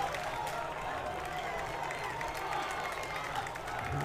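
Richmond Spiders fans at a college men's lacrosse game against Cornell cheer and clap in a steady, distant crowd roar that lasts the whole stretch, with a commentator talking over it.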